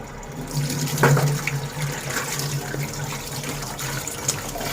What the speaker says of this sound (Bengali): এখন আমি যাব থালা বাসন মাজতে